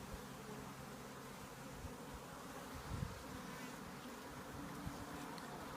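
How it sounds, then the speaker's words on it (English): Honeybees buzz steadily around an open hive during an inspection, a dense outdoor drone at moderate distance with a brief swell near the middle and no talk. "now here's a bee"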